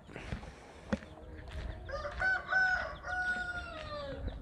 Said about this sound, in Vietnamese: bên đây là chuồng gà nè. Đó, nuôi gà.